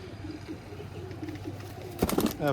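Pigeons on a rooftop give repeated soft, low coos at a steady pace, then a brief burst of clatter and fluttering near the end.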